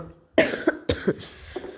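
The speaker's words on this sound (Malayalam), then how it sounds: "പേടിച്ച് ചുമച്ചങ്ങ് പോയി." A video game character gives a few short, harsh coughs in quick succession, close and fairly loud, with a brief pause between bursts.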